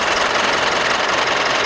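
A Mitsubishi Pajero Sport diesel engine idles, giving a loud, dense and continuous mechanical clatter heard up close with no other sounds.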